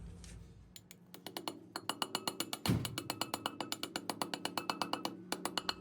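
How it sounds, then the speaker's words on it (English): A boat trailer wheel hub part is tapped in evenly with a rapid, regular series of sharp metallic taps, close and bright, quickening into a steady rhythm after a brief pause. "Now just tap it in evenly all around."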